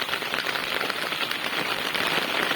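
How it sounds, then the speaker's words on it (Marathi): Heavy rain pours down in Kokisare village in the Konkan region of Sindhudurg, beside a temple with old trees, a dense, steady hiss of drops drumming on surfaces close by, with no pauses and no voices. "आता जोरदार पाऊस आलेला आहे इकडे"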